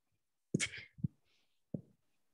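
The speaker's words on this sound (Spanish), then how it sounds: "ay, espera, voy a estornudar." A single sneeze bursts out sharply up close, followed by a brief breathy tail and a smaller second catch of breath, then a short exhale; quiet room otherwise.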